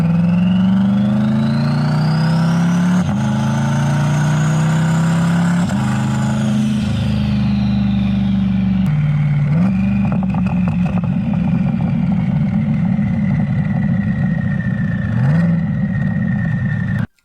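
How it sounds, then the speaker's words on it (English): Twin-turbo Chevrolet Corvette C8 engine revving repeatedly, rising and falling pitch sweeps with a turbo spool whine and sharp clattering pops between revs, loud and close, no talking. "You can hear the turbo spooling as well."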